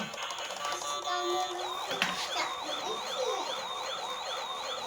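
A toy ambulance siren wails in a rapid, repeating warble, fairly faint and close, with a brief clatter partway through.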